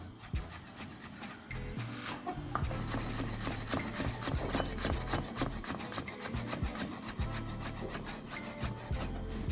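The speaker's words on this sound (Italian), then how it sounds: "prendiamo qualche spicchio d'aglio e lo andiamo a tagliare" A knife slicing garlic cloves thinly on a cutting board, with rapid, closely spaced scraping chops continuing steadily throughout.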